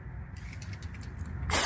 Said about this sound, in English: you just want to spray on the inside of that